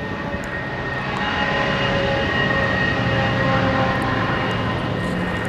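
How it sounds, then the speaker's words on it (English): A long freight train rolls past in British Columbia, a continuous loud rumble and grinding with steady whining tones, unbroken for the whole stretch. "That was a long train."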